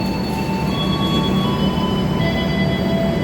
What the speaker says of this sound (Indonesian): Kereta api Cikuray persiapan berangkat dari jalur 4 stasiun Bandung.